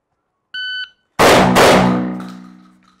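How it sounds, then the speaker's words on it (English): After a short electronic shot-timer beep, two shotgun blasts fired at a target in quick succession, about a third of a second apart, loud and close, with a ringing decay and no talking. "And you can see my two shotgun shots there."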